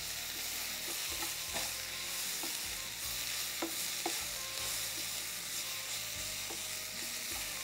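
Coriander leaves and spices sauté in a pan with a dense, continuous sizzle and occasional soft clicks and scrapes from a stirring spatula. No voices are heard.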